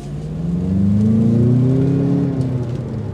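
A 2023 Mazda CX-50 Meridian Edition's turbo engine accelerates from inside the cabin, a loud, steady rising drone that swells and holds for about three seconds with no talk.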